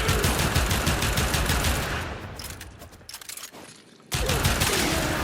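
A Pyrana Prime pistol fires in a rapid, loud barrage in the Warframe simulacrum, with the shots thinning out and pausing briefly before the fire resumes at full intensity.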